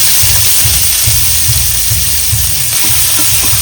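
Onions and mustard seeds sizzle steadily in a hot pan for a beetroot dry fish curry, with a loud, even hiss and a soft, regular low thumping beneath it.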